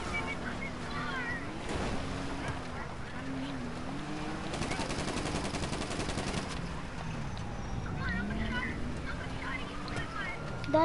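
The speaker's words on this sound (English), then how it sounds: "They're shooting at us." In Fortnite, a rapid burst of automatic gunfire rattles for about two seconds midway through, surrounded by quieter game ambience and faint voices.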